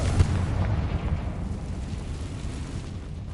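Confringo spell blast in Hogwarts Legacy, one booming explosion at the start that decays into a long, rumbling low roar fading over a few seconds, no talking.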